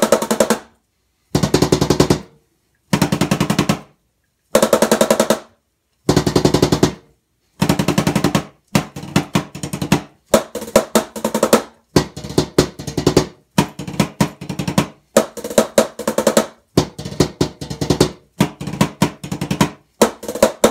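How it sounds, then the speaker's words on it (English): Kick drum struck on 1-ply, 2-ply and 3-ply mesh drumheads in turn, loud repeated bursts of rapid beats: five evenly spaced rolls first, then a longer run of denser, slightly quieter groups. "I'm gonna compare it against a 1-ply, a 2-ply, and then that 3-ply, just to show you how loud they are all compared to each other."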